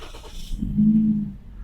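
A 2022 Toyota Yaris 1.2 Sport Premium X-Urban with push-button start cranks and catches, then settles into a low, steady idle hum, fairly close and with no voices.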